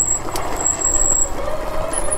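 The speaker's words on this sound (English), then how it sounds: "the brakes are kind of squeaky on this bike" Squealing brakes on an Electric Motion Escape R demo electric motorbike: a thin, sustained high squeal with a lower tonal whine, steady and close over a rumbling road-noise background.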